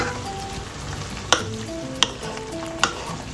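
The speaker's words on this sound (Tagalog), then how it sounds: "pagkatapos ng 5 minuto, haluin natin siya." Pork with moringa leaves simmering in a pot is stirred, a steady low sizzle broken by three sharp scrapes or knocks of the utensil against the pot, close and clear with no talk.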